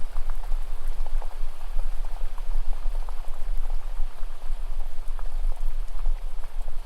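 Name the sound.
rain falling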